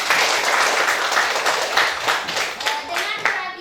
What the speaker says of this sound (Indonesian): Untuk itu kita berikan aplaus untuk kita semua.